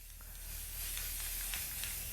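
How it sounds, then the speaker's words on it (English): Spray paint hisses steadily from an aerosol can onto wooden furniture during a laundry room remodel, a close continuous spray with a few brief louder bursts and no talk. "Just gonna keep spraying."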